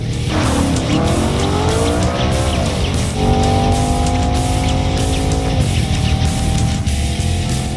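A 2014 Audi RS5 coupe driven hard on a wet track, engine roaring loud and close with rising revs, gear changes and steady tire squeal through continuous cornering.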